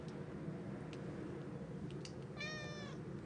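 A single cat meow rises and falls briefly over a steady, noisy background hum, faint and somewhat distant.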